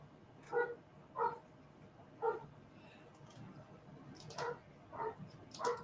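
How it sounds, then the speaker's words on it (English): A household dog barks in short sharp bursts, about six times over several seconds, moderately faint and set back from the microphone against a quiet indoor room background. "Sorry if you hear my dog barking."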